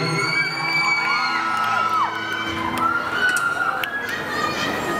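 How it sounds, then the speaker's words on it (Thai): A packed crowd at a concert in a shopping mall cheers and shrieks continuously, high excited yells and whoops layered over a dense, sustained roar. "วันนี้คนดูเดือดแน่นมากนะครับ"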